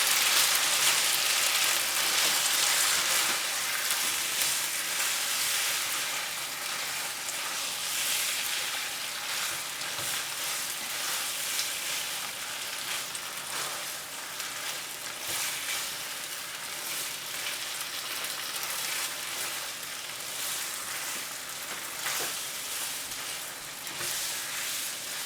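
Pad thai noodles and broccoli sizzle steadily in a hot pan while being stirred and mixed, a continuous close hiss of frying with scraping movement throughout.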